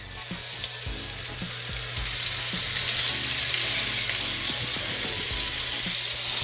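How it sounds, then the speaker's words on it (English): Pork chops laid into a hot pan crackle and spit in a loud, steady sizzle that swells after a couple of seconds and keeps going, close up, with no one talking. "So our pan is hot. And I'm gonna go down with our pork chops."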